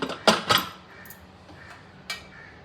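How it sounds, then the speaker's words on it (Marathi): A cooled pressure cooker being opened, with two sharp metallic clanks close together followed by a fainter clink a moment later, close and clear in a quiet kitchen. "कुकर थंड झालाय, आता उघडते।"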